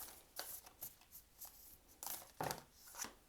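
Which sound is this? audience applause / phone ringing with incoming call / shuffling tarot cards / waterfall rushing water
shuffling tarot cards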